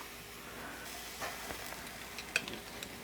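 Eggplant grilling in a pan gives off a quiet, steady sizzle and hiss, with a few light clicks and stirring sounds near the end, faint and without talk.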